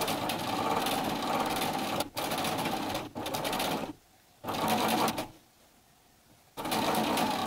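A sewing machine runs a 3.5 mm straight stitch 3/8 inch from the edge around the top curve of a set-in sleeve, loud and close in steady bursts broken by several short stops and pauses.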